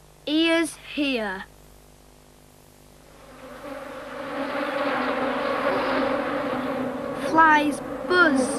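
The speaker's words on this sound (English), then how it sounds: "Flies buzz," A voice speaks briefly, then a continuous insect buzz rises and drones steadily, close by, with more speech near the end over the buzzing.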